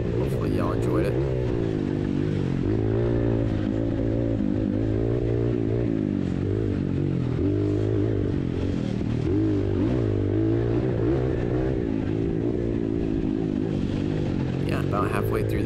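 Several dirt bikes roar close by, an older Kawasaki KDX 200 among them, their engines droning loud and steady with rising and falling revs throughout the ride, under wind noise.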